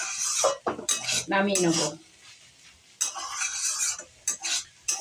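Cooked greens are stirred in a pan, with bright metallic clinks and scrapes of a utensil against the pan and a light sizzle, interrupted by someone speaking briefly.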